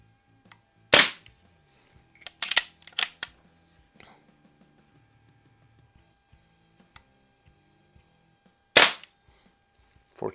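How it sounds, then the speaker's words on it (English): A Diana Chaser air rifle carbine being shot through a magazine, sharp isolated pops spaced several seconds apart, some followed by quick mechanical clicks of cycling, with near silence between shots. "let's go ahead and shoot a mag"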